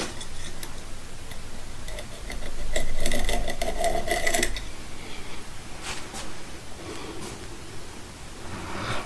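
Someone hand-files a touch off the end edge of a piston ring for a Honda motorcycle engine, making light, scratchy strokes in short bursts against faint background rustle.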